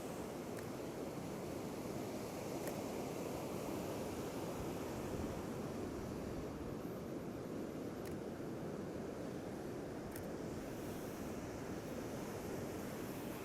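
Sea waves wash steadily onto a rocky coastline at sunset, a constant loud broadband rush of surf and water with no distinct breaks and no voices.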